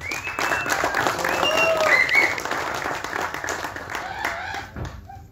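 Audience applause at a film industry press meet: a crowd claps steadily and fairly loudly for several seconds before tapering off, with faint voices underneath.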